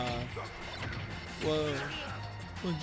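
An up smash attack lands in a fast-paced competitive fighting game match, a sharp impact hit standing out briefly amid busy game effects and music, with a commentator talking over it.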